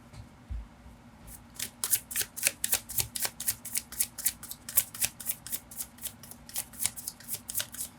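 Tarot cards being shuffled by hand, a steady run of quick crisp riffling slaps repeating rhythmically for several seconds, close and clear with no talking over it.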